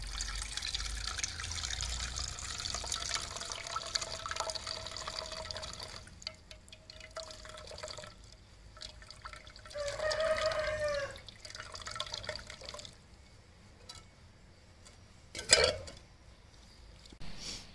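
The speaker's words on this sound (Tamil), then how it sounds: "இப்போ வந்து நம்ம தேங்காய் பால் வந்து வடிகட்டி எடுத்தாச்சு." Coconut milk drains through a strainer while virgin coconut oil is being made, a close, soft liquid trickle and drip that swells in a few brief runs over steady low background noise.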